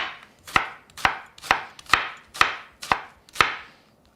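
A knife chops through an onion into half-moon slices on a cutting board, seven crisp, evenly spaced cuts, close and clear with nothing else heard.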